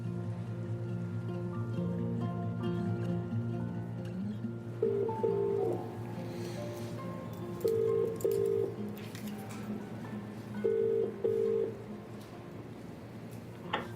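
A telephone keypad is pressed in short paired beeps, three clusters spaced a few seconds apart, fairly close and clear over a low steady room hum with faint clicks.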